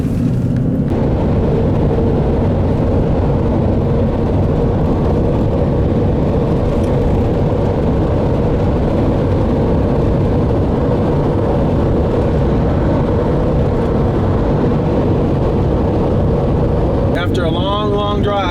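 A car drives westbound on Route 174 across open Utah highway, with a loud, steady road and engine rumble that runs unbroken throughout.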